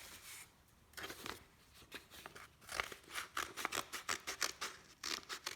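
Scissors snip through several stacked layers of paper for a children's garden diorama craft, a quiet, close series of crisp cuts that speeds into a steady rhythmic run of snips toward the end.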